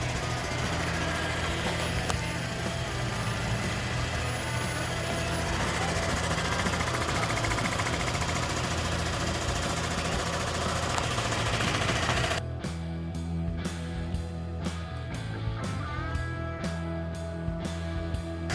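A surfacing machine mills the gasket face of an AMC 360 cylinder head, a loud steady grinding drone for most of the span, then sharp rhythmic clattering knocks near the end, with no talking.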